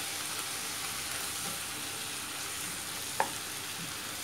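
Squid sprinkled with turmeric powder is stir-fried in a pan, producing a steady soft sizzle with faint stirring scrapes and one brief utensil clink, close and without talk.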